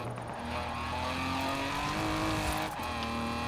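A race car in Forza Horizon 4 drives at speed, its engine a steady rising whine with road noise throughout, loud and close, no voices.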